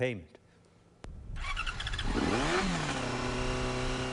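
A Yamaha motorcycle engine starts and roars up loud and close, swelling in pitch as it revs, then settles into a steady rumble after a brief spoken word at the start.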